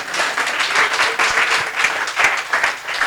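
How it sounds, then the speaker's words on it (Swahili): A church congregation applauds loudly and steadily, with dense clapping throughout. "Mose na Katema na Bo, tupigie makofi."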